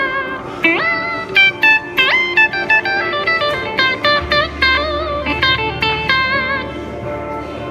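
Electric guitar runs through a DigiTech Whammy 5 pitch-shift pedal, playing a quick, loud lead phrase of plucked notes that jump between octave-shifted pitches, with a low sustained note entering partway through and no voices.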